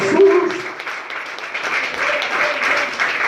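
A church congregation applauding during a Spanish-language sermon, a steady wash of clapping running for several seconds at moderate loudness, with a voice briefly audible near the start.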